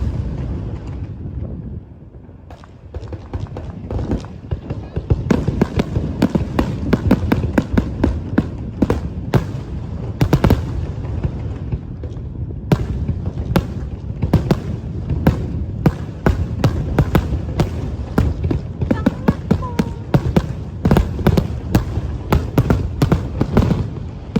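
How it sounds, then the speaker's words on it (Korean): Holiday fireworks in Abu Dhabi burst in a dense, continuous barrage of sharp pops and crackles, some near and loud, others softer and farther off across the river, with no talking. "바로 앞에 불꽃뿐만 아니라 강 건너편에서 터지는 불꽃까지 보여서"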